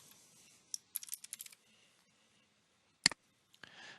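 Several quick clusters of keystrokes on a computer keyboard tap close by in a quiet room, followed by a sharp louder click and a short pause.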